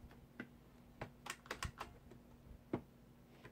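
An IBM Model M computer keyboard being typed on, with sparse, irregular clicky keystrokes, some in quick pairs, close and fairly quiet against a faint steady hum.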